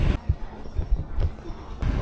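Horses clip-clop along a Mackinac Island street, their hoof beats coming in a steady, low, rhythmic thudding over faint outdoor ambience.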